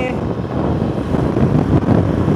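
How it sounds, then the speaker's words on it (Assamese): Steady, loud wind buffeting the microphone in a continuous low roar, like riding fast on a motorbike, with no clear speech. "বতাহটো খুব জোৰত মাৰি আছে বাইকটো চলাই আছোঁতো বতাহৰ জোৰটো অলপ বেছি হৈছে"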